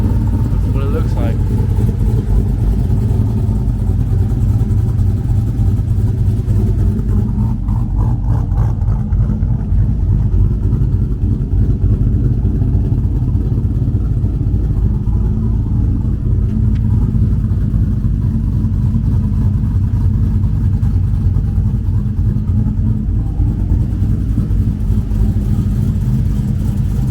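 A Chevrolet Silverado truck engine idles while warming up, a steady loud low rumble running throughout with no revving peaks.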